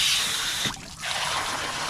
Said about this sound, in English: So when I got water going in there too